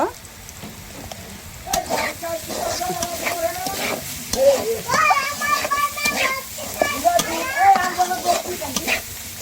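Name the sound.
frying bitter gourd (ucche bhaji) with turmeric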